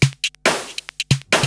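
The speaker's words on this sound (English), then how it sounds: "There's a snare and a clap. So those two together sound like that." A snare and a clap sample layered together play a quick pattern of crisp, bright hits, several close strikes in about a second and a half, up front and with no talk.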